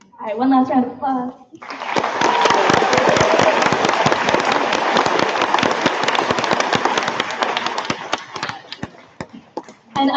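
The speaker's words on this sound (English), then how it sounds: "one last round of applause" Audience applause at a school assembly for eighth graders: a brief bit of talk, then a loud, dense burst of clapping from a large crowd that runs several seconds before thinning out.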